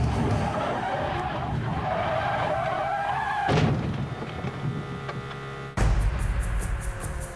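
A Corvette race car, the number 3 entry, skids and spins out with a loud sustained tire-scrubbing roar, then a sharp thump as it ends, while other racing engines hum past.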